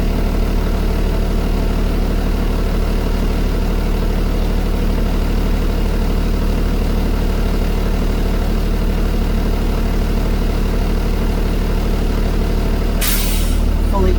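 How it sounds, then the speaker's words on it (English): Steady loud drone of a school bus engine idling while its air brake system recharges, a continuous low rumble with a sudden sharp hiss of released air near the end, no voices. "I'm going to wait for my air brakes to recharge"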